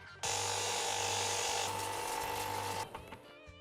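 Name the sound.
sanding machine bevelling the end of a wooden ramrod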